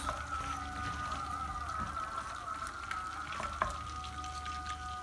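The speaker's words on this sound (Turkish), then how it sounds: "Evet gördüğünüz gibi tereyağım ve zeytinyağım eridi. Hemen içine ben cevizlerimi attım." Walnut pieces sizzle in a pan of melted butter and olive oil, a steady crackling fry with a constant bright hiss and occasional soft stirring clicks, heard alone without talk.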